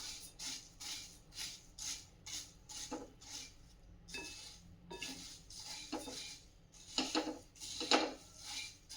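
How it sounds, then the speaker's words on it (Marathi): Puffed rice (churmure) being dry-roasted in a pan over slow to medium heat, with a spoon repeatedly scraping and stirring so the grains rustle and clink against the metal in quick, fairly steady strokes, close and moderately quiet. "चुरमुरे व्यवस्थित असे भाजून घ्यायचे आहेत स्लो टू मीडियम हीटवर व्यवस्थित भाजून घेऊयात"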